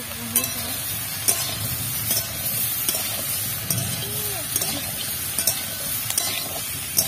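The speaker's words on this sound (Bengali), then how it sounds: "এটাকে একটু নেড়ে নিলাম" Sliced rounds of onion and tomato stirred in a hot pan, a continuous close sizzle punctuated by regular scraping clicks of the spatula against the pan.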